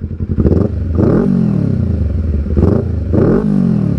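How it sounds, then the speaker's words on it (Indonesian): A Yamaha R25 250cc two-cylinder motorcycle engine with an aftermarket exhaust revs hard twice, each rise climbing in pitch then dropping back to a rough, throbbing idle, loud and close. "kedengaran suara 250 cc dua silinder aja gitu"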